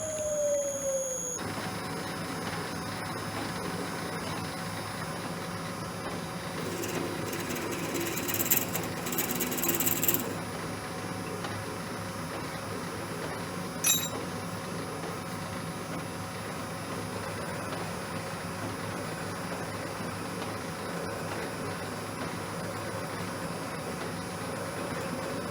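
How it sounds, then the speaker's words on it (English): A machine hums steadily in a shop while center drilling a bronze feed nut for a Lewis shaper carriage, with a faint continuous tone and a couple of brief metallic clicks, no voices. "Gonna center drill and then we'll get going"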